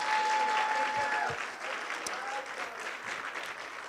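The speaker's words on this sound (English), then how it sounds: "please a round of applause for our winners and everyone who participated tonight" Applause from a gala audience honouring scholarship award winners, a dense wash of many hands clapping that starts loud and eases slightly while continuing steadily to the end.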